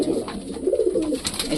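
Pigeons coo inside a pigeon house where birds sit on eggs beside their chicks, giving rounded, close, repeated calls in a short continuous burst with no talking.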